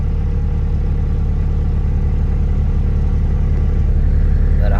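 An Acura RSX engine idles after a radiator replacement, giving a steady, close, even low rumble with no surging.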